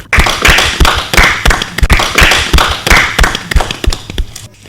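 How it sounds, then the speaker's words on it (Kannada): An audience at a radio discussion programme on education claps together in a loud, fast, steady rhythm of sharp slaps that keeps going and fades slightly at the end. "ಎಲ್ಲರೂ ಚಪ್ಪಾಳೆ ಹೊಡಿಬೇಕು"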